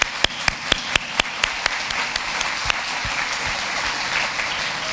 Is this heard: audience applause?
yes